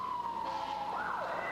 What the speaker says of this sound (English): a police car screamed by